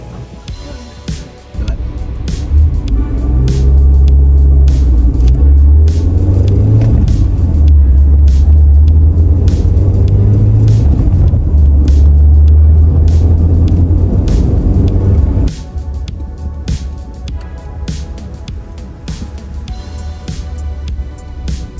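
A car's engine drones during a test drive after a spark plug change, a low, steady rumble with rising and falling tones as it pulls along the road, then settling lower and quieter near the end.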